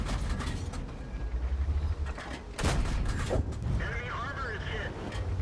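Tank cannon fire in World of Tanks from an M4A3E8, heard as a couple of heavy booming shots over a constant rumbling engine and mechanical clatter, close and loud.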